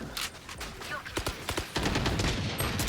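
Rapid bursts of gunfire in the video game Valorant, a string of close, sharp shots followed by denser sustained fire, with a voice talking faintly over it.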